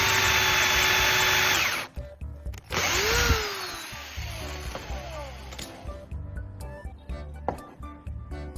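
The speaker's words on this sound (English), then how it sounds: "Using a step drill bit, carefully drill a hole that matches the size of the nut." A power drill with a step drill bit bores a nut-sized hole in the whisking part of an egg beater, starting with a high, steady whine and then breaking into short grinding bursts and pauses.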